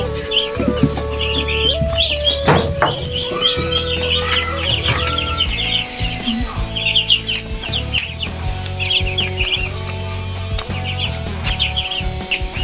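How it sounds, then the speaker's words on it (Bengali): Ducklings kept in a room at night chirp and peep in quick, overlapping bursts, a busy high chatter that carries on nonstop over a low background hum. "এরপর হাঁসের বাচ্চাগুলো রুমে রেখে দেব।"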